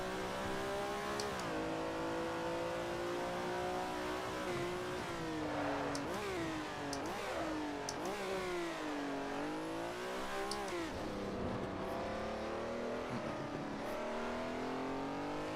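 A Ferrari producing over 700 horsepower accelerates flat out around the Zandvoort circuit, its engine a loud continuous roar heard from inside, climbing in pitch through the revs and dropping briefly at gear changes, with no talk.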